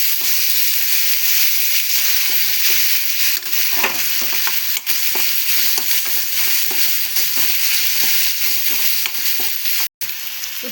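Ginger frying in a hot pan for a dry prawn fry, a steady close sizzle with stirring scrapes and clinks running throughout, no talking.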